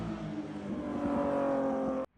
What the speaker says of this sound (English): and of course the sound of this car